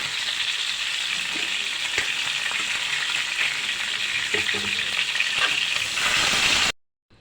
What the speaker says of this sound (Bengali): আমি প্রথমে মাছগুলি ভেজে নেব